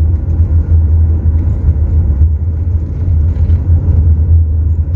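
A Toyota Innova Reborn with a petrol engine is driven in third gear, giving a steady, loud, low rumbling drone. The engine note stays even throughout, with slight fluctuations in the road-and-motor hum.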